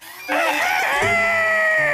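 A cartoon character's voice imitates a rooster crowing in one loud, sustained cock-a-doodle-doo call lasting about two seconds, with no other talk.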